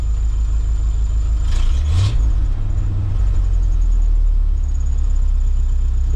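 A 1968 Ford dump truck's engine, just after a carburetor repair, runs close by with a loud, steady low rumble and a brief rise in revs partway through, alone with no voices.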